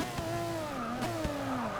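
A race car engine drops steadily in pitch as it slows, loud and close, with a few sharp clicks from gear changes.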